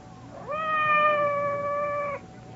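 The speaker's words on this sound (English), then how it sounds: "It sounded like Madame's cat, Francois." A single drawn-out cat meow heard from outside a door, a radio drama sound effect, rises briefly and then holds a steady, clear tone for almost two seconds before it stops abruptly.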